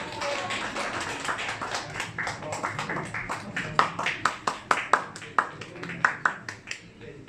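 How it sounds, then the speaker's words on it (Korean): Clapping at a church thanksgiving service, starting scattered and building into a sharper, steady run of claps, with voices faint underneath. "박수 하겠습니다."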